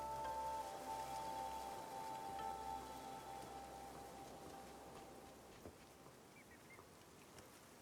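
Steady rain hissing across the ground in the video game Infinity Nikki, loud at first and then thinning and fading quieter over several seconds, with no voices.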